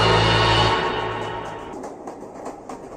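A train rolls to a halt as a sound effect in a Bangla horror audio story. Its loud, rumbling roar fades steadily over three seconds into a faint clatter.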